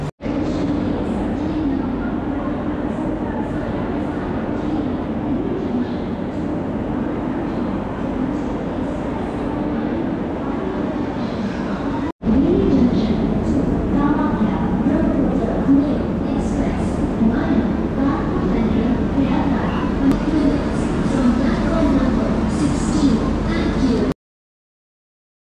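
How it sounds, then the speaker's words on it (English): Train pulling into New Delhi railway station, a steady loud rumble of rolling cars that swells midway, with crowd noise and station bustle around it. "Here comes train 12311, which will take me to Kalka."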